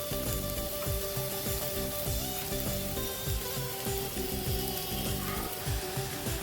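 Soya chunks fry in spiced masala and oil with a steady, close sizzle, while a spoon stirs and scrapes the pan in a rhythmic pattern throughout.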